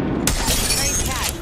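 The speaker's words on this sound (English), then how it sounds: "I cracked the target shield." An enemy shield shatters in the Apex Legends video game: a sudden bright, glassy crash that rings out over busy gameplay sound, with a voice talking underneath.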